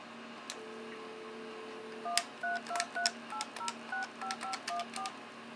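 A dial tone hums before a rapid string of DTMF keypad tones as a cell phone dials an outside call through a trixbox phone server, about a dozen short evenly spaced beeps, clear and close.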